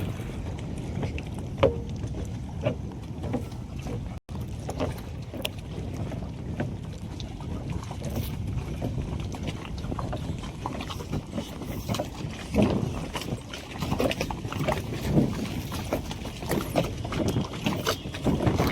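Boats out on the water at Dudhni Dam's boating point, with steady wind and water noise, low churning motor-like rumble and scattered splashes throughout, no speech.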